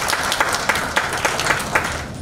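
Loud audience applause at a Kangen Water meeting, a steady wash of many hands clapping with sharp accent claps throughout.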